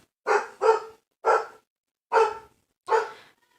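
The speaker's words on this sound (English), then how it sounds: "That was my dog that scared me." A dog barks five times nearby, loud and sharp, with two quick barks then three spaced singly, and silence between them.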